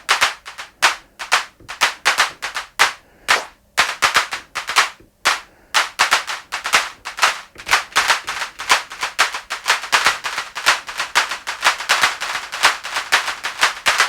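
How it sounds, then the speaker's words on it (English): A clap sample played through delay on an Elektron Octatrack, sharp, close hand-clap hits repeating in a rapid rhythm, each one trailing echoes that blur into a dense, rattling pattern. "now if I wanted to just use the Elektron Octatrack to add a little bit of delay to the clap"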